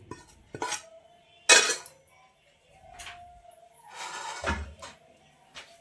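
Cooled masala being mixed into paddu batter, heard as a metal spoon clinking and scraping against a steel vessel in separate bursts, close and fairly loud, with quiet gaps between strokes.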